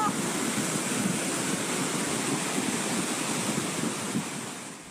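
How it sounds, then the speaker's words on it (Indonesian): A flash flood torrent surges through a village in Bumiaji, Batu, carrying debris; a loud, continuous roar of rushing water with a wind-buffeted, amateur-recorded quality, steady throughout. "Detik-detik banjir bandang melanda terekam kamera video amatir warga."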